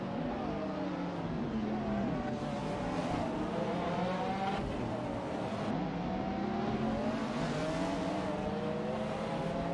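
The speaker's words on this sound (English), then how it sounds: "We just witnessed some exciting racing action with AI drivers in a racing simulator." Hypercars race at Road Atlanta in a racing simulator game, with engines droning and revving through rising and falling pitch sweeps as several cars pass close together in a continuous loud roar.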